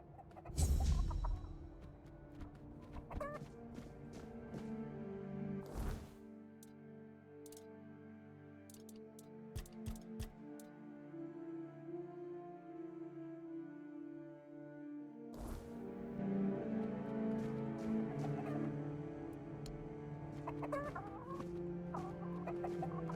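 Chickens clucking in the video game Tainted Grail: The Fall of Avalon, with repeated close clucks and a brief crowing note scattered over a steady ambient game background, without speech.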